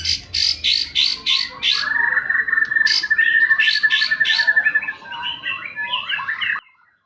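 A bright oriental magpie-robin sings up close: quick repeated chirps, then a long sustained whistle followed by varied warbling phrases, loud and alone.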